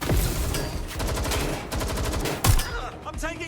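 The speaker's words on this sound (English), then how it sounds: "I'm getting shot here! Suspect is shooting!" Gunfire in the video game Watch Dogs Legion comes as rapid bursts of shots, with a sharp loud crack midway and scattered pops around it, mixed with in-game voices and effects.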